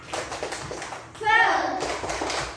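Schoolchildren in a classroom perform a rhythmic 'tepuk semangat' clapping chant, with a burst of chanted voices in the middle over a steady run of claps and room noise.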